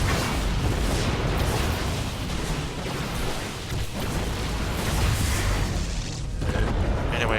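A cannon is destroyed in a StarCraft 2 Legacy of the Void battle, giving a dense, loud explosive rumble that rolls on for several seconds with continuous bursts and booms.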